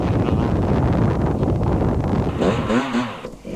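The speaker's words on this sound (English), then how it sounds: "but it was very windy up here" Strong wind roars and buffets against the microphone on a hilltop at a 1993 British Enduro Championship event, with a faint engine-like whine rising near the end.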